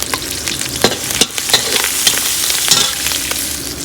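Curry leaves frying in hot oil for keerai kootu: a loud, close crackling sizzle punctuated by sharp pops and spatters, with a few stirring scrapes and no talk.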